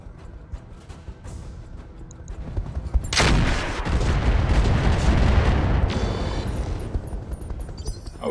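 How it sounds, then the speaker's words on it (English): Mechs in a video game open fire on the Firestarter, a rumbling barrage of heavy gunfire and booms that erupts suddenly and roars loudly and continuously for several seconds after a quieter lead-in. "our mechs are going to proceed to shoot the Firestarter"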